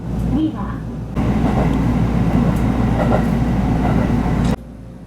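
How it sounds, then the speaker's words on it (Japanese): A JR Central Minobu Line local train pulls away from Kai-Ōshima station, a steady loud rumble of wheels and motor building under a cabin hum, with a brief quieter stretch at the start and end. "15時36分、甲斐大島駅を発車。"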